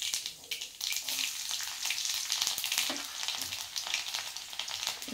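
Mustard seeds, a little cumin and spices sizzle steadily in hot oil for a home-cooked kadhi, with a dense continuous crackle and scattered sharper pops throughout.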